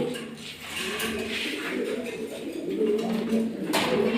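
A Huma pigeon coos softly at a breeding farm, low throaty murmurs over a faint steady background.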